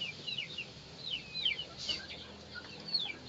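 Baby chicks kept in a cardboard box give rapid, high chirps that overlap in a steady busy chatter throughout, fairly close and moderately loud, with no talking.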